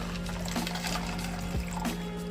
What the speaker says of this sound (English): Dump in the water.